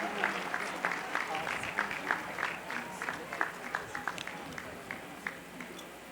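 Applause from a university commencement crowd, fairly faint and distant, with scattered individual claps standing out in an uneven rhythm that thins toward the end.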